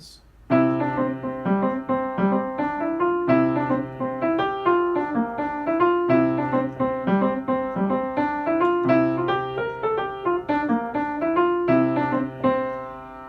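A steady jig melody, the Moon Coin Jig in Mixolydian mode, rings out close and clear over a constant low drone, with brisk triplet phrasing carrying through from a short pause at the start to the end.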